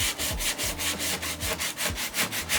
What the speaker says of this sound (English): you have to kind of sand with the grain